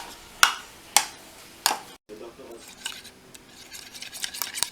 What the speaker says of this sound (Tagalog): Mash natin ang mangga.